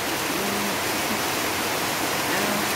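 Steady, dense hiss of rain pattering onto water in a flooded field, continuous and even with no pauses, fairly loud and close.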